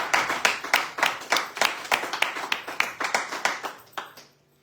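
A small group claps in a steady, slightly uneven rhythm of distinct hand claps that carry on for several seconds before stopping abruptly, with a faint voice underneath. The clapping is a weekly Friday-evening show of encouragement.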